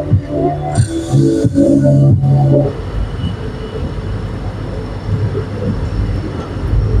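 A Guwahati-Mendipathar passenger train running through hilly Meghalaya country, a loud rumble with rhythmic clatter and a brief burst of tonal horn-like sound early on, then settling into a steady lower rolling drone.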